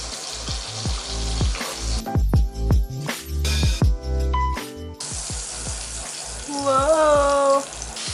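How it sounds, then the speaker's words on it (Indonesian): Seasoned steak sizzling as it hits a hot pan at home, loud crackling and spattering that cuts in and out, with some clanking and a voice briefly heard. "Sekarang kita mau masukin ke pan-nya ya."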